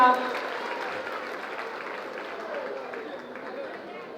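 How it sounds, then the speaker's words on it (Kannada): Audience applause at a government land-distribution ceremony, a sustained burst of clapping that starts strong and slowly fades, with some crowd chatter underneath. "ತಾವೆಲ್ಲರೂ ಕೂಡ ಒಂದು ಜೋರಾದ ಚಪ್ಪಾಳೆಯೊಂದಿಗೆ ನಮ್ಮ ಈ ಕಾರ್ಯಕ್ರಮವನ್ನು ಬೆಂಬಲಿಸೋಣ"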